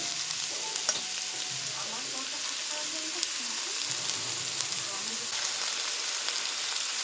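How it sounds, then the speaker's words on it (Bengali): Vegetables frying in oil in a wok for chicken chowmein, a continuous moderate sizzle with occasional stirring clatter and faint low sounds beneath. "কড়াইতে তেল ঢেলে দিলাম, তেল দিয়ে আর এক করে ভেজে নেব সবজিগুলো।"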